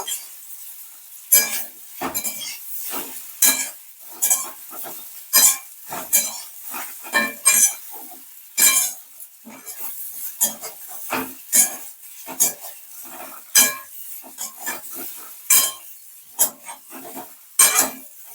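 Dhoka lentil cakes fry in oil in a pan while a utensil stirs and scrapes them, sharp metallic clinks and scrapes recurring irregularly over a quiet sizzle.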